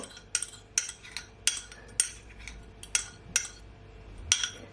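A spoon stirring hot pepper sauce into mayonnaise in a bowl, giving a run of sharp metallic clinks and taps at an uneven rhythm, about a dozen strikes over a quiet background, close and without speech.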